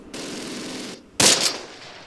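Gunfire from the Close Combat war game during a WWII ambush: a sustained burst of automatic fire, then a brief pause before a louder, sharper shot or blast that fades quickly.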